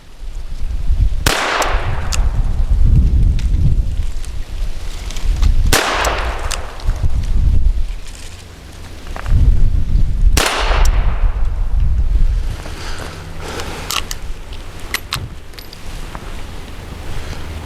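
Three loud, close gunshots from a Diamondback Sidekick revolver at an outdoor range, evenly spaced several seconds apart, each a sharp crack followed by a rumbling decay.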